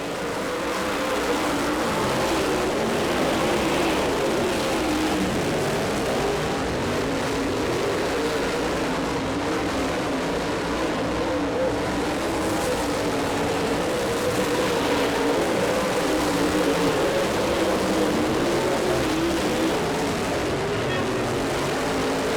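Race cars roaring steadily around a dirt track on lap six, a dense continuous engine drone heard from a distance with crowd-like background wash and no clear pauses.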